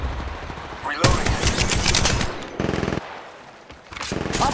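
Automatic weapon fire in the Apex Legends battle royale game, bursts of rapid machine-gun shots starting after a second and returning in clustered volleys, loud and close, with brief quieter gaps between.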